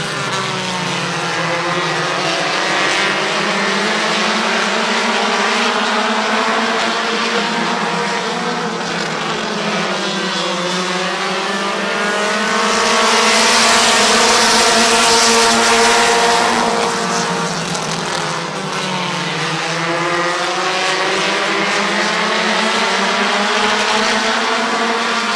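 Race cars circle a speedway track at a fall classic event, a loud continuous engine drone rising and falling in pitch as the cars pass, swelling to a peak midway, with a commentator talking throughout.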